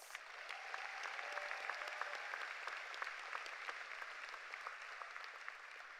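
A crowd at the 2022 Olympic Heights Community High School graduation claps for the graduates' families, a constant patter of many hands that sounds somewhat distant and soft, with a few brief voices rising over it early on.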